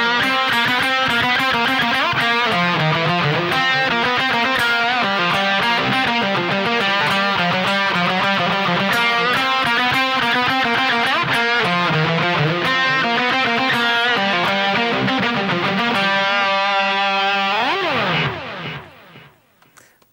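Electric guitar plays an outro riff, a fast, dense run of repeated picked notes held loud and steady, ending in a sliding bend and fading ring-out.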